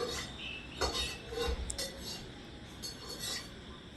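A metal utensil clinks and scrapes in a pan as oil is stirred around, with a few light taps amid steady soft kitchen noise.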